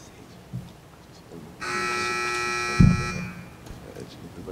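A harsh electronic buzzer sounds at a high school quiz match, one sustained blare of roughly a second and a half, followed by a thud and faint background murmur.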